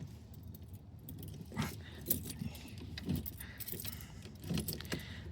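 A large ignition key for a non-starting Triumph Spitfire jangles on its ring in several short metallic bursts, close to the listener, over faint background noise.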